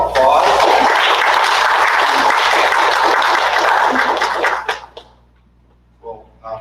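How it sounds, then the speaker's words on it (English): An audience at a Board of Education election forum breaks into applause, a dense, sustained clapping that lasts several seconds and then fades out, followed by a brief voice. "Let's give a round of applause."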